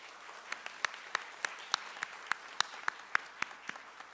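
Church congregation applauding during a worship service, a thin, sparse clap with distinct sharp individual claps in a loose, fairly steady rhythm over a quiet background.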